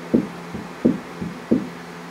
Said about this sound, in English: the floor kind of does a little oil canning there when I put weight on it